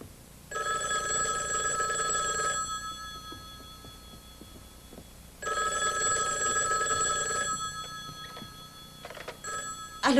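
A telephone bell rings twice at moderate loudness, each electric trill lasting about two seconds with a quiet gap between, before a clatter as the receiver is picked up.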